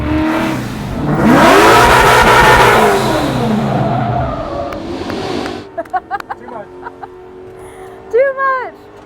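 A car, a 2021 Holley Ford Festival drift at a Ford event, revs hard and slides with a sweeping engine roar and tire noise, then fades as excited voices shout and cheer.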